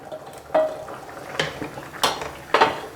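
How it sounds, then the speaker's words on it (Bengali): Boiled potato pieces tumble into a pot of ghugni peas, giving four separate soft clatters and scrapes of utensil against the pot, close by and evenly spaced, with no talking. "সেই আলুর টুকরোগুলোকে দিয়ে দিচ্ছি"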